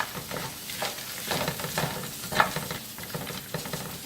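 Peas are stirred in a hot frying pan, a steady sizzle broken by repeated scraping strokes of a utensil, close and fairly quiet, with no talking.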